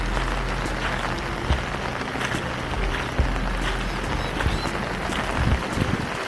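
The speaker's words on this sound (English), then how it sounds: "excuse the rain noise on the umbrella" Heavy rain drums steadily on an umbrella during a walk through a flooded river on the North Coast of New South Wales, a close, dense hiss with scattered louder drops and no talking.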